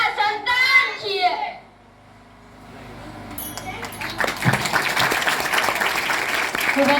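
Audience applause at a Sankalp Viksit Bharat Yatra gathering in Sodhana, a voice speaking first, then clapping swelling into steady, fairly loud applause from a crowd.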